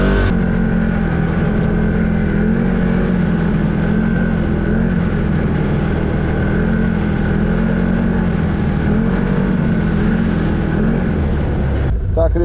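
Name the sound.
motorcycle engine on a winter ride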